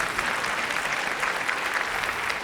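A stand-up comedy audience claps in a dense, steady burst of applause that fills the room evenly from start to finish, with no voices rising above it.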